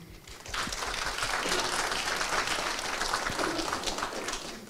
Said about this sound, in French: J'aimerais que vous preniez le temps pour applaudir.